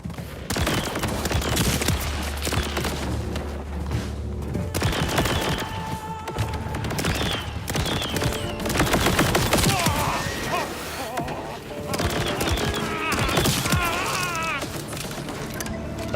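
Rapid rifle gunfire in the video game Borderlands 4, dense bursts of shots, booms and impacts layered with game effects, loud and continuous throughout with little pause.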